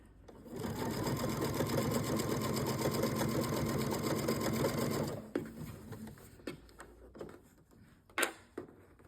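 Sewing machine running a steady fast stitch through fabric for a bread bag, a loud continuous mechanical whir for about five seconds, followed by scattered clicks and fabric handling noises.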